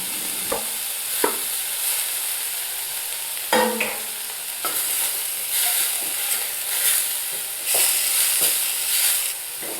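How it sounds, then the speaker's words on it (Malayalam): Chopped capsicum fries in a pan for creamy white sauce corn pasta, giving a continuous loud sizzle broken by repeated stirring scrapes and spoon knocks, close up. "നമ്മൾ ഒരു ക്യാപ്സിക്കം എടുത്തത് അരിഞ്ഞത് ഇട്ട് കൊടുക്കാം."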